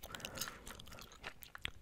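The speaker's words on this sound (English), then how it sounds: "gum chewing sounds" Close, wet chewing of bubblegum with soft crunchy smacks and clicks repeating steadily, intimate and quiet.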